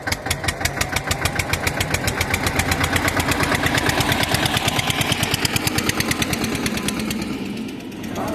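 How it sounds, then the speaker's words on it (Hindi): Tractor engine chugs in a sugarcane field while cutting furrows for planting, a close, loud, rapid diesel knock with a steady rhythm that eases off slightly near the end. "तो दोस्तों ये ट्रैक्टर से खूड़ निकालने जा रहे हैं"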